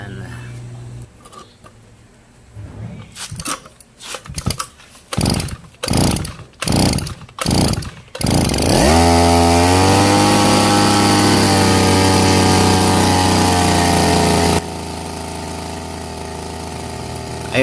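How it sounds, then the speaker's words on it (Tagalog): A repaired, long-stalled grass cutter engine sputters through a series of rhythmic pull-start bursts, then catches and runs steadily at a loud, high-revving buzz before settling slightly lower. "Ayun guys, umandar na yung ating ginawang grass cutter."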